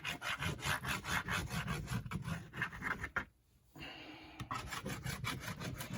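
Material is rubbed hard onto a cardboard box journal in steady back-and-forth strokes, a loud rasping scrub that stops briefly near the middle and then resumes.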